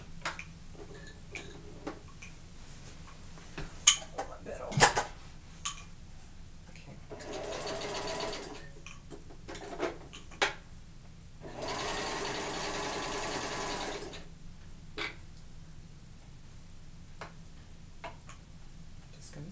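A sewing machine stitching a boot pattern runs in two sustained bursts of rapid mechanical chatter, close and moderately loud. Scattered ticks and light handling clicks fall between the bursts.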